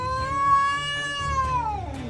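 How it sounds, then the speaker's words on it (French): A cat lets out a long, drawn-out angry meow, close and loud, its pitch wavering and dropping into a low growling tail at the end. "Un chat en colère défend la maison d'un agent immobilier."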